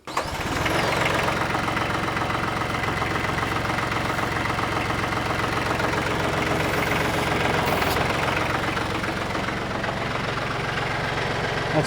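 A compact tractor's diesel engine cranks and catches almost at once, then settles into a loud, steady running drone with a knocking rhythm that holds close and constant to the end.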